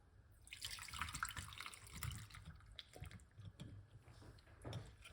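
Liquid pours and splashes steadily into a container, a running, trickling stream with some dripping, fairly quiet and close.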